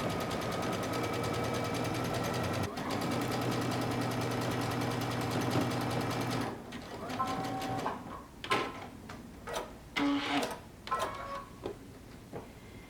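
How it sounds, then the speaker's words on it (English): A sewing machine runs in a steady rapid chatter, stitching elastic onto a dress side seam, with a brief pause partway through, then stops around halfway, followed by quiet clicks, rustles and handling noises. "we're going to start sewing, and as you're going along, you're just going to stretch your elastic"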